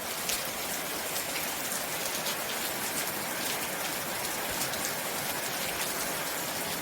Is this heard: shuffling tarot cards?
no